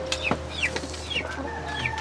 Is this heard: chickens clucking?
yes